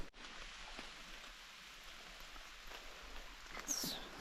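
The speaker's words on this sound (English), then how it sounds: "it is starting to drizzle a little bit" Light drizzle falls on a mountain trail on the way to the summit of Mount LeConte, making a faint, steady patter with no voices.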